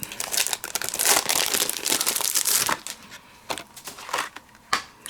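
Scissors or a trimmer cutting through aubergine-coloured cardstock for a craft kit box base, a sustained crisp crinkling and slicing followed by a few sharper isolated snips.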